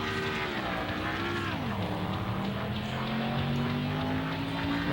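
Race car engine in the video game Nascar Thunder 2003, a steady droning whine that shifts pitch as the car slides across grass, loud and continuous throughout.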